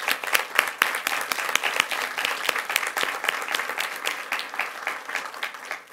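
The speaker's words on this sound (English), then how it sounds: "So let's give them a round of applause." Audience applause at a school board meeting for student cadets, steady, fairly loud clapping from a room full of people that runs several seconds with dense overlapping claps before tapering off.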